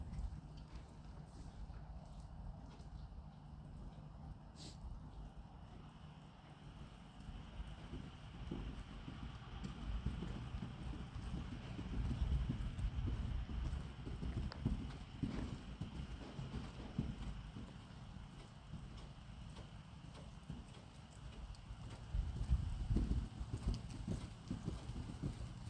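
Horse hooves cantering in a riding arena, a steady rolling clip-clop rhythm running throughout, fairly close, with some wind noise over the microphone and no talk.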